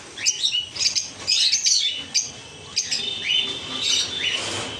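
Small caged birds kept in pairs at a bird farm give repeated high chirps and tweets in quick bursts, fairly close and steady, with no talk over them.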